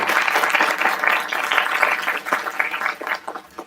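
An audience at an academic talk on adolescence applauds warmly, a dense, continuous patter of many hands clapping close by for a few seconds.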